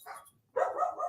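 A dog in a house full of dogs gives two quick barks, a short high yip followed after a brief pause by a louder, fuller bark, close and clear.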